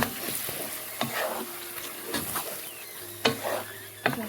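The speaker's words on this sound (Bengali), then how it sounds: "আবার সব কিছু মিশিয়ে নিচ্ছি" Naga chili pickle stirred and mixed in a pan sizzles steadily, with a spoon scraping and tapping the metal every second or so; close and fairly loud, with no voices.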